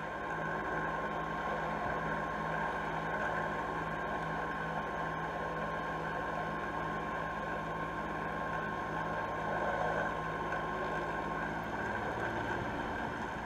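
Boat engine held at 3,000 RPM, about 750 pounds of thrust, while dragging a Delta anchor slowly along the bottom; a steady, loud drone with a constant hum and broad wash, unbroken throughout.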